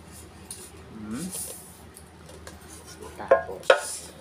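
Pieces of a cookware set including a saucepan and lids are handled during an unboxing, producing faint, close clinks and metallic knocks, with a couple of sharper clanks near the end.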